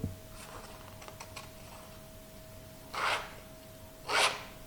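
Edges of paper being distressed by hand for a scrapbook album, soft close scraping strokes, a few light scratches early on and then two longer, louder rasping rubs near the end.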